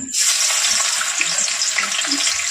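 Loud, steady hissing sizzle of chopped garlic frying in hot mustard oil in a kadai, close up and continuous, with no talking.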